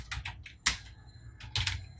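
Rapid keystrokes on a computer keyboard come in uneven bursts of clicks close up, with a low hum underneath and no speech.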